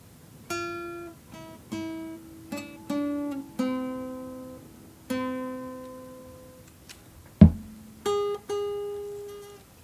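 A slow guitar melody of single plucked notes from Coco, each ringing out and fading, with one sharper, louder pluck near the end.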